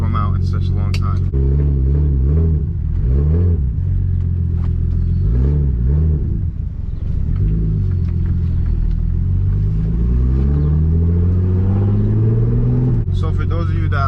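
Turbo BMW E30 with an M50 B25 engine running close by, idling and blipping in repeated short revs before a longer rising pull, loud and rumbling with a brief sharper burst at the start and end.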